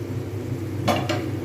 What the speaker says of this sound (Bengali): আমি এবার খুলে দেখব ঢাকনাটা